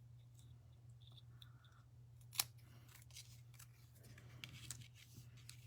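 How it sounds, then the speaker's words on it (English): Scissors cut paper for a handmade card: one sharp, close snip stands out midway, with fainter cutting scrapes before and after over a steady low hum. No one speaks. "I don't know if I can cut straight."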